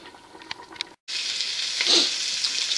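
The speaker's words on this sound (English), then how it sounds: "cross cut those to get nice little square pieces of onion and throw it into the frying pan" After a quick cut, a steady sizzle of diced onion frying in a hot pan fills the space, loud and continuous with a brief swell.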